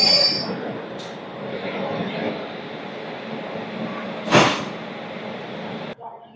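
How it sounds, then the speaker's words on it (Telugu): The Satavahana Express, train 12713 between Vijayawada and Secunderabad, is moved at a station platform by a diesel shunting locomotive. A steady rail rumble with wheel squeal carries throughout, then a sharp, loud burst near the end before the sound cuts off. "శాతవాహన అయితే ప్లాట్ఫామ్ మీద తీసుకొస్తారు డీజిల్ లోకోమోటివ్తోని, షంటింగ్ లోకోమోటివ్."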